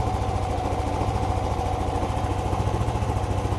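A Yamaha Aerox or Nmax 155 scooter engine idles steadily up close, a loud, even, low chugging with a fast regular pulse and no talk over it.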